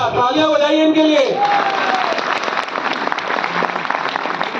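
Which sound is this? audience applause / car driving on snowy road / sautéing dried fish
audience applause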